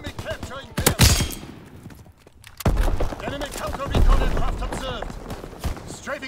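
Bursts of gunfire from an enemy aircraft strafing run in the video game Call of Duty WW2, rattling in several loud clusters amid battle noise, with a voice announcer speaking over it.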